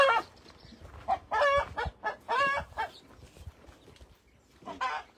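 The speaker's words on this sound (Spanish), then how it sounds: "Mira la gallina. Gallo." A hen clucks in short repeated bursts with a rooster joining in, close and fairly loud, separated by quiet gaps.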